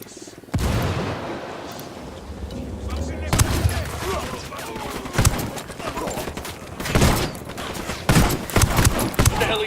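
Gunfire and a grenade blast ring out in Ghost Recon Wildlands, with sharp loud bursts repeating through the scene over a rumbling backdrop, while voices talk intermittently.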